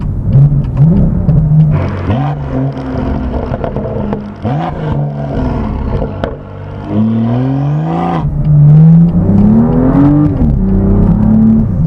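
A 2018 BMW M2 engine revs hard and drops through downshifts, its loud exhaust snarling, crackling and popping with rising and falling pitch throughout.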